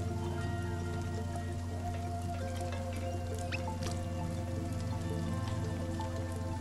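Steady rain in the video game Kingdom Two Crowns, a constant hiss of falling drops layered over a sustained low musical drone and scattered small tones, with no talking.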